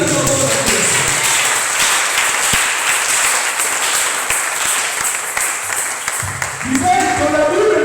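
A church congregation at a Sunday service applauds with loud, sustained clapping from many hands that fills the room, while a voice speaks briefly over the applause.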